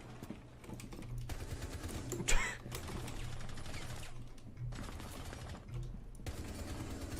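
A firing squad in a LEGO video game lets loose a rapid, crackling volley of gunfire, dense and sustained with a sharp burst partway through, heard quietly under game background sound.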